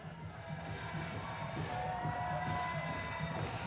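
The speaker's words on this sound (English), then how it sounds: "Crowd getting loud here." Indoor football game crowd at an arena matchup between the Lehigh Valley Outlaws and Rochester Raiders, a sustained, fairly faint roar of cheering and shouting on fourth and goal, with scattered whoops rising above the din.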